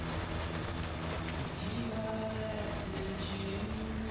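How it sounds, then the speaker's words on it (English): Heavy rain in the video game Death Stranding, a dense, steady hiss of rainfall with low rumbling underneath that continues without a break, plus faint tonal game sounds. "But it is heavy raining right now."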